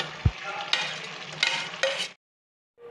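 Chicken masala gravy with coconut milk is stirred in a pan, a close soft sizzle with a few spoon scrapes, then the sound cuts off into silence.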